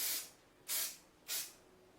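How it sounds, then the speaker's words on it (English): Hairspray sprayed onto teased, brushed-up hair: three short hissing aerosol bursts with brief pauses between them, close and fairly soft, and no talking. "Then I'm going to spray."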